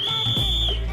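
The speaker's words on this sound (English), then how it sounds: "It gets so busy, they blow a whistle to let everyone know when the queue is cleared." One long, steady, high whistle blast sounds at a busy, packed curry and roti canai restaurant in Malaysia, signaling that the queue is cleared. Low background hum and crowd noise sit beneath it.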